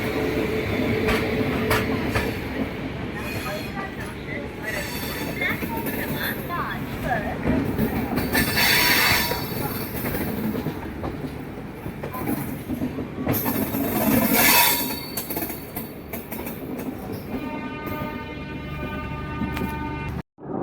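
A Rajdhani Express, train 12423 from New Delhi to Dibrugarh, pulls out of New Delhi station. A steady rumble and rattle of the carriages carries on throughout, heard from on board, while a person talks over it.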